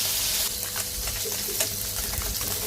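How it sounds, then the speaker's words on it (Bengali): Koi fish frying in a pan, a constant loud sizzle of hot oil with small crackles and spatters, close and uninterrupted. "এখন কই মাছগুলো ভাজবো"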